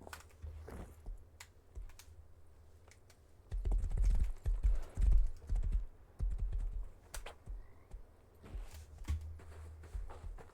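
A horse's hooves clop in an online role-playing game, a soft uneven patter that swells into a louder run of hoofbeats midway, mixed with light clicking.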